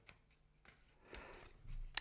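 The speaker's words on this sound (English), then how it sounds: "when it comes to shuffling this deck," A tarot card deck being shuffled gives faint, close papery riffles and soft slides, with a sharp snap of cards near the end.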